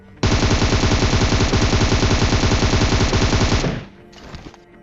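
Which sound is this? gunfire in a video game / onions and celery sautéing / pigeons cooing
gunfire in a video game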